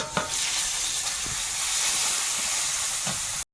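Hot oil sizzles steadily in a wok as bay leaves, cardamom and a little cinnamon go in, a continuous close hiss with a few faint stirring knocks and no talking.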